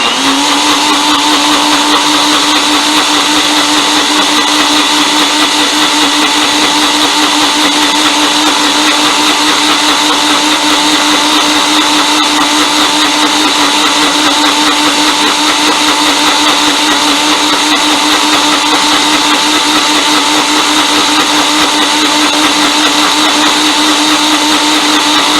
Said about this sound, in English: in a blender, I think you probably go